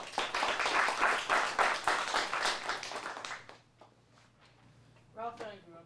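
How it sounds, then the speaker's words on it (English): Audience at a teen showcase clapping after a monologue, a burst of rhythmic applause for about three seconds that fades to scattered claps, followed by a brief voice starting to speak. "Let's give him a round of applause."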